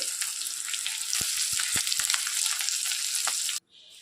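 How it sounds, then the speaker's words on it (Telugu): Steady, loud sizzling of spices frying in a hot pan, with a few sharp scrapes of a utensil, cutting off abruptly near the end. "ఇవన్నీ కలిపి ఫ్రై చేసుకుని"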